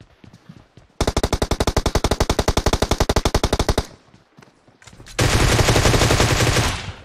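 Rapid automatic machine-gun fire in the video game PUBG: one loud, evenly spaced burst of about three seconds, a short pause, then a second denser, harsher burst that fills the rest of the clip.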